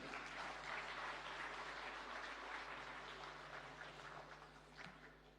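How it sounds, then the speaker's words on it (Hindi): Audience applause for award winners at a national awards ceremony, a broad wash of many hands clapping that holds steady, then slowly tapers toward the end over a faint hum. "सभी पुरस्कार विजेताओं के लिए कृपया तालियां बजती रहें।"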